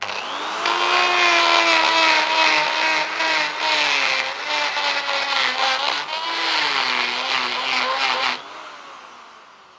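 Tungsten carbide burr grinding mild steel, a loud sustained high whine with shifting pitch that runs steadily for about eight seconds, then cuts off.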